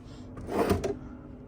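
A single drawer slides open with a short wooden scrape and soft rumble, close by, in a quiet room.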